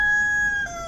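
Chickens kept with rams and pigs at a campground; a single loud, close, drawn-out crowing call fills the brief moment.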